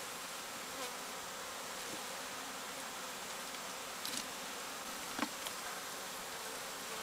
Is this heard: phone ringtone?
no